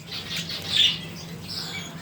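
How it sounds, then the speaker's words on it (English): Budgies squawk and chirp in a pet store, a few close, scratchy bursts over a low steady hum. "Budgies."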